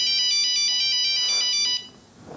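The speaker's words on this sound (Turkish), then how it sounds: "Ay, kızlar telefon çalıyor." A telephone rings with a bright electronic ringtone, a rapid pulsing trill repeated for under two seconds before it cuts off abruptly into near silence.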